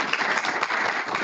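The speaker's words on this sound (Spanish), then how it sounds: "vamos a recibirlo con un caluroso aplauso" A classroom audience gives a short, lively round of applause welcoming a presenter, with dense clapping heard close.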